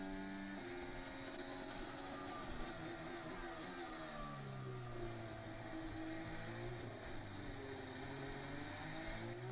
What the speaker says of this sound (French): On entend à la reprise de gaz les roues arrière qui patinent.